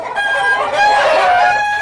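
A black Andaman Nicobar rooster, about eighteen months old, lets out a single loud, drawn-out crow right beside the listener, rising and holding before tailing away.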